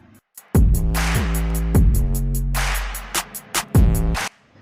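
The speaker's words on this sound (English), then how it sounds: "that is the phone coming on" A Google Pixel 4 XL smartphone powering on with a loud run of startup tones that glide and swell, then ends in a few short blips before falling silent.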